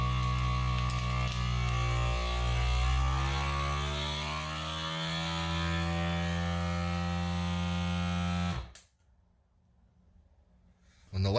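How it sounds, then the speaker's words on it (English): A FoodSaver vacuum sealer runs on a bag of ground meat with a loud, steady motor hum that drones for several seconds, then cuts off abruptly into near silence before a brief final click. "close the lid and hit the vacuum/seal button"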